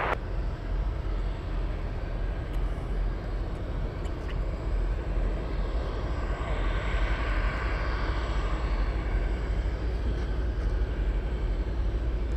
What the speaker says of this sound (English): Perfect takeoff, runway 33